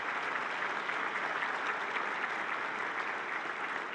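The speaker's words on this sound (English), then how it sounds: "Let's give them another round of applause." A large audience at a Northern Kentucky University fall convocation gives a performance a round of applause: dense, steady clapping that stays loud and even for the whole stretch, with no voices rising above it.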